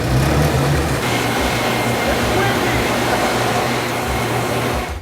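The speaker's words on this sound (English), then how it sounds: "All our 5 leaf blowers work." Five electric leaf blowers run together as a makeshift supercharger for a 1978 Chevrolet Monza Spyder, giving a steady, loud, close-up whooshing drone that holds constant throughout.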